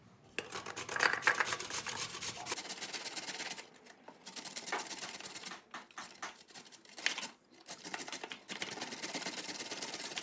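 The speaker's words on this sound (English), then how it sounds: "just shred the carrots as well." Carrots being shredded on a grater for Polish sour cucumber soup: continuous rasping scrapes close to the microphone, running in long strokes broken by short pauses, with no talking.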